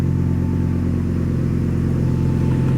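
Audi A3 fitted with a 2.5 engine idling steadily and loudly up close, a constant low throbbing hum with a light touch of throttle.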